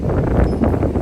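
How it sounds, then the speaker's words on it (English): Steady wind buffeting a microphone on a windy Charleston, South Carolina pier by the water, a continuous low rumble with no other distinct sounds. "Nice and windy here."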